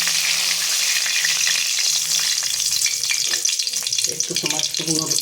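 Two bay leaves hit hot oil in a Bengali kitchen, setting off a loud, steady crackling sizzle with bursts of spitting pops that grow more uneven toward the end.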